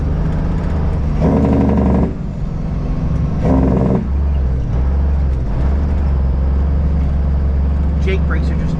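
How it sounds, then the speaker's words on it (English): A semi truck's Jake brake rumbles deep and steady off a mountainside on a wooded back road, a loud low drone that continues throughout while people talk over it. "Jake brakes are just echoing off the mountain."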